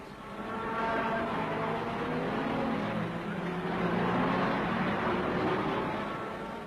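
Racing cars, including Triumph TR4 TRS entries, a 3-litre Healey and a 750 Lotus, pull away at the start of the 1961 Le Mans 24 Hours, a dense roar of engines that swells and holds, heard from a distance.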